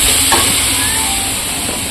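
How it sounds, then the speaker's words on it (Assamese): Close, steady sizzling hiss of small-cut chicken frying in a hot pan for momos, with faint scraping of stirring and no talk. "এতিয়া ভালকৈ ভাজি ল'ম এয়া আমাৰ মাংস প্ৰায় ৰেডিয়ে হৈছে"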